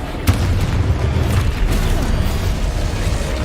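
Confringo blasting spell exploding in the video game Hogwarts Legacy, a loud booming burst with a sharp pop at the start and a rumbling low tail, dense and close.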